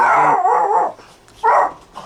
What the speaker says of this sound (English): Got the door open because it's such a nice day and the dogs are going nuts.